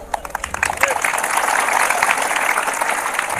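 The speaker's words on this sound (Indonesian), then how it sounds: "Kenapa kamu tepuk tangan?" A church congregation applauds steadily during a sermon, a dense wash of clapping that starts with scattered claps and builds to a sustained, loud ovation.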